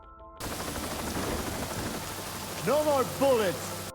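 Steady rain pours down throughout a brutal hand-to-hand fight, with a few sharp rattling bursts and a short wailing tonal sound near the end.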